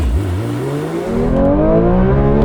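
A Porsche 911 S/T launching hard, its engine note climbing steadily in pitch through the gears, loud and close with no talk over it.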